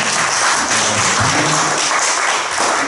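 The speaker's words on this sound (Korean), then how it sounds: "박수 한번 주시죠." Audience at an academic roundtable conference on fascism and populism claps in a dense, loud, sustained burst of applause lasting a few seconds with no talking over it.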